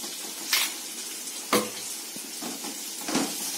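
Ground masala stirred into a frying pan with ginger-garlic paste, a soft steady sizzle broken by a few scraping stirs and brief clatters of the spoon against the pan.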